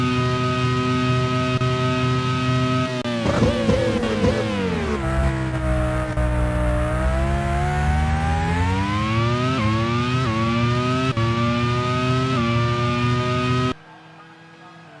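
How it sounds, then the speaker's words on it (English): A 1991 Formula One car at the French Grand Prix screams loudly from onboard, its engine pitch rising and dropping through gear changes and braking before cutting off abruptly near the end. "Gerhard Berger, however, is the car that we are currently watching. He's in between jobs at the moment, fourth position"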